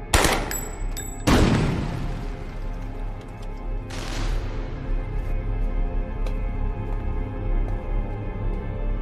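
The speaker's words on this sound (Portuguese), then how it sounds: "Eu vou atirar." Gunfire in a dubbed action film about a mission in Russia: a sharp crack, then a heavier blast about a second later and another burst near four seconds, fading into a low rumbling tail.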